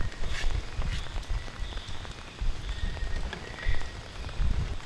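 Monsoon rain falls at a rainy-season campsite in the Philippines, uneven patters and drops hitting nearby surfaces in irregular bursts at a moderate level, with no voices.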